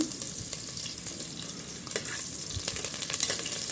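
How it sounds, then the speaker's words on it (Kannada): Onion, mustard seeds and curry leaves fry in oil inside a pressure cooker for a sprouts masala curry, a close, steady crackle with a few spatula knocks and scrapes and no voices. "ಇವಾಗ ಒಂದು ಕುಕ್ಕರಲ್ಲಿ ಎಣ್ಣೆ ಹಾಕ್ಕೊಂಡು ಸಾಸಿವೆ ಹಾಕ್ಕೊಂಡಿದ್ದೀನಿ ಈರುಳ್ಳಿ ಕರ್ಬೇವಿನ ಸೊಪ್ಪು ಹಾಕ್ಕೊಂಡಿದ್ದೀನಿ"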